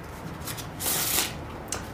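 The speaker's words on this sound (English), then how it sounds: "Shuffle the cards." A deck of playing cards being shuffled during a comedy and magic show, a single riffling burst that swells in the middle and then ends with a short flick, close and clear with no talk.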